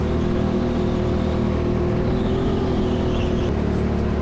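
Race car engine at full throttle accelerating out of a turn during a race in Bradford, a loud, steady droning roar with dense low harmonics and a slight pitch rise, continuous throughout with no talk.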